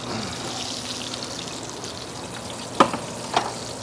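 A ribeye steak fries in a hot pan with butter, producing a steady, close hiss of sizzling fat with two brief sharp pops or clicks near the end.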